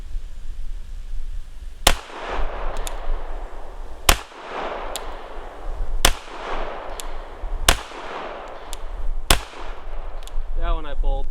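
Five loud, sharp gunshots crack out at an even, unhurried pace from a handgun fitted with an Olight Baldr Mini weapon light and laser, each with a short echo, followed by a brief voice at the end.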